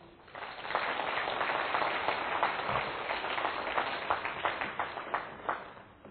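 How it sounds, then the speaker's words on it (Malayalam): Church congregation at a prayer service applauding with raised hands, a sustained wash of many hands clapping together, steady and fairly loud for several seconds, with no speech over it. "ഒന്ന് കൈയുയർത്തി കൈയടിച്ച്"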